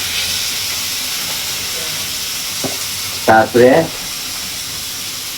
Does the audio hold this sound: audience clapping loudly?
no